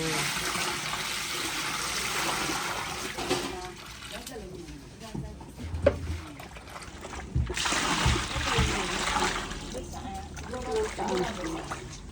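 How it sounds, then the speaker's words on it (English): Hausa kooko being mixed with water in Nima, with sloshing, trickling and splashing liquid that is nearly constant and close, while people talk over it. "So this you are mixing with water."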